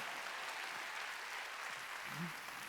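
A church congregation at a Korean Sunday worship service claps together, a continuous, moderately soft patter of many hands heard from a distance.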